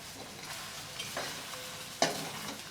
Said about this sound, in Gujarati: 2 જ મિનિટમાં વઘાર થઈ જાય.